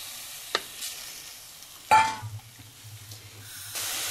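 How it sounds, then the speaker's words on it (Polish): Pork hits a hot, dry pot and sizzles, with a sharp clank near the start and a steady frying hiss that carries on close by, no talk over it. "do takiego nagrzewającego się garnka dodaję mięso"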